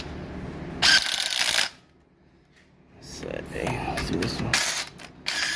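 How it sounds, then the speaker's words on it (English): A ratchet tightens bolts back down over a freshly laid gasket on a 1947 Plymouth engine, its clicking coming in close, loud bursts with a pause between them, while someone speaks briefly. "We're tightening our bolts back up."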